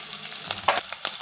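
Garlic, ginger and chilli pieces fry in hot oil on high heat, giving a steady close sizzle with a few brief louder crackles, with no one talking.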